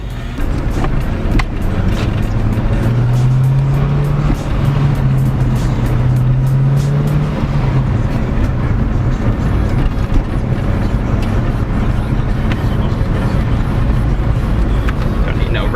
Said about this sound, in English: Don't need no radio. We got V8 sounds.